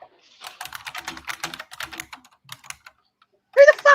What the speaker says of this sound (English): Who the fuck are you typing to?